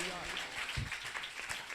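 A church congregation applauds during a sermon, a dense wash of many hands clapping at once, with a voice speaking over it.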